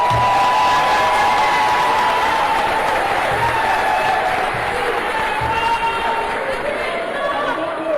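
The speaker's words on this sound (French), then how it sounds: "je voudrais vous prier d'applaudir une fois de plus pour nos U17" Crowd applause for the under-17 football champions at a Cameroonian Ballon d'Or ceremony, loud continuous clapping mixed with chatter and some cheering from a large gathering, tapering slightly toward the end.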